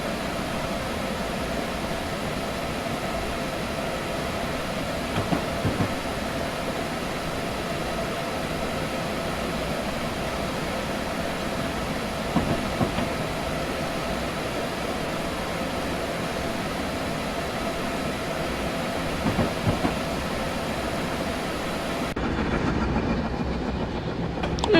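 An Amfleet passenger train running in Train Simulator 2015, a steady rolling rumble with low hum and faint clicks of wheels on rail, continuous and even throughout, with a small shift in tone near the end.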